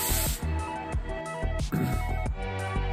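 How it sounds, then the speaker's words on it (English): Brake cleaner sprayed from an aerosol can onto EJ257 Subaru engine parts during an engine build, several short, close hissing bursts with brief gaps between them, with no one talking. "make sure all this stuff has to be super clean with brake clean"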